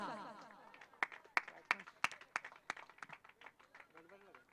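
Scattered hand claps from a crowd at a local cricket tournament match before the final ball, a dozen or so sharp uneven claps over an announcer's talk.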